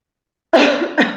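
After a moment of silence, someone coughs twice up close, a harsh rasping cough followed by a shorter second one.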